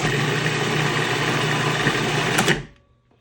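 A food processor spins roasted peppers and olives into tapenade, giving a steady loud motor whir close by that runs evenly, then cuts off and fades to silence near the end.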